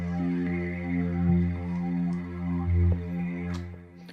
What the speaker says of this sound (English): I also threw in this pad.